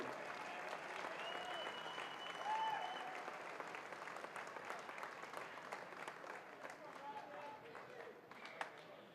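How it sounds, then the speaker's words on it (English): Crowd applause and cheering fill a venue after a three-round featherweight cage fight, sustained and fairly loud throughout with a few sharper shouts, while an announcer's voice carries over it. "let's give one more round of applause for a great fight."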